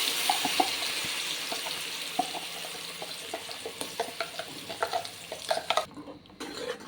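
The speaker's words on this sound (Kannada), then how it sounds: "ಎರಡು ನಿಮಿಷ ಈ ಎಣ್ಣೆಲ್ಲೇ ಫ್ರೈ ಮಾಡ್ಕೊಳ್ಳೋಣ ಈ ಮಸಾಲೆನ" Ground masala sizzles with onions in hot oil in a home kitchen while a spoon stirs it, giving steady frying hiss and a run of soft clinks and scrapes, close and moderately quiet, ending in a brief hush.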